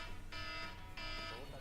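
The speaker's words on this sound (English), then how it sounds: "That was my alarm that was repeating to wake you" A repeating phone alarm goes off, two sustained bright electronic tones pulsing in bursts over a low background hum, fairly faint and steady.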